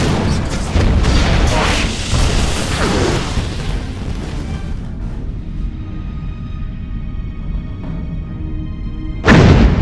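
The starship San Francisco fires weapons during a space battle in Star Trek Bridge Commander, producing heavy rumbling booms and blasts that roll on for several seconds, fade, then return with a sharp loud burst at the end.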